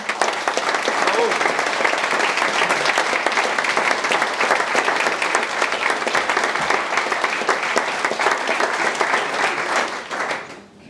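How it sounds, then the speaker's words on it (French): Loud, sustained applause from a large audience at a French political gathering, dense clapping continuing steadily for about ten seconds before tapering off at the end. "Je remercie Thomas, Théo, Paul, que je vous demande d'applaudir très fort."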